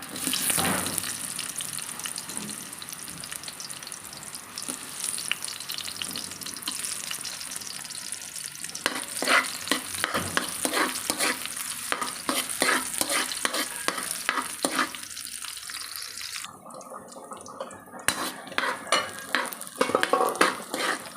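Onion frying in a pan, a steady sizzle running throughout with frequent stirring and utensil scrapes, some louder clatter near the end; no one speaks.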